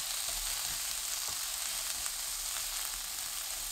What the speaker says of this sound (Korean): 팬에 올리브유 1큰술, 다진 마늘 반큰술, 아스파라거스 넣어주세요. 센 불로 2분 볶아줍니다.